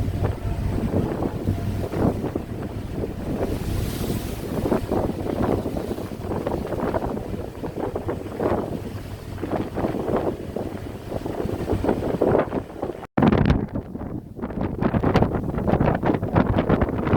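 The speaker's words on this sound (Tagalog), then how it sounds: "Malalaki ang alon." Heavy rolling waves wash and surge steadily around a moving ship at sea near Lucena City Port, mixed with strong wind buffeting the microphone.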